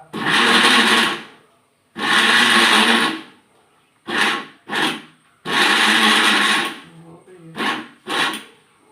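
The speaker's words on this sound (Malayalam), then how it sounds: "അപ്പോൾ ഞാൻ ആ മിക്സിക്കകത്തിട്ട് കറക്കി എടുത്തു" A kitchen mixer grinder blends ripe plantain in loud whirring bursts: three long runs of about two seconds and several short pulses, each stopping abruptly between starts.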